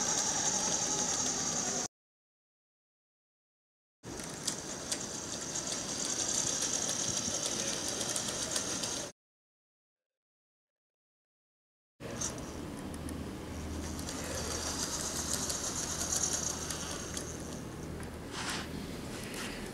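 A Hasbro Star Wars BB-8 toy droid drives around with a steady electric motor whir, close and moderately loud, in three runs separated by silent gaps.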